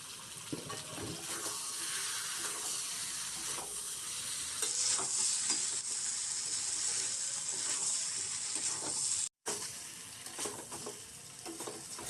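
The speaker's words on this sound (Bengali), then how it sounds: "ভেজে রাখা চিংড়িগুলো এবার দিয়ে দেব।" Fried shrimp being stirred into a pan of pointed gourd, a steady close sizzle with scraping spatula strokes throughout, one brief cut midway, no talking.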